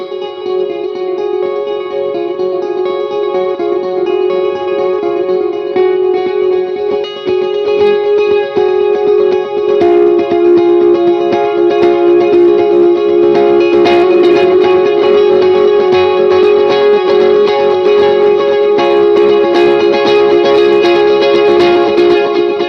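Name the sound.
electric guitar through amp via Mogami cable, breakup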